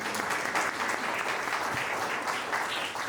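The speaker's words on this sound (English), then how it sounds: "Can we please give them a round of applause for those wonderful words?" An audience at an Asian heritage festival event in Vancouver claps in sustained, dense applause throughout.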